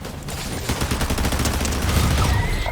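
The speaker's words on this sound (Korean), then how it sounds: "앞에 총소리 나는데?" Rapid bursts of gunfire crackle continuously, loud and dense, like sustained automatic shooting in a PUBG: Battlegrounds match, with gunfire ahead of the player.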